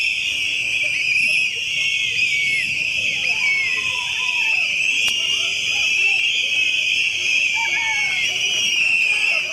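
Hearing-impaired protesters in Chennai blowing whistles at a demonstration near the Marina, a dense, continuous high shrill from many whistles at once, loud and sustained with faint crowd noise beneath.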